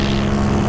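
A police medivac helicopter nearby, a loud, steady rotor and engine drone filling the short moment with a constant low hum and no talking.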